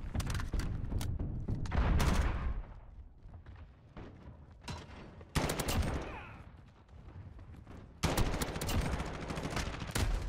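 Bursts of automatic gunfire in Call of Duty Modern Warfare beta, a 32v32 Ground War match, crackling loudly in dense volleys that break off and return, with quieter stretches of scattered shots between them.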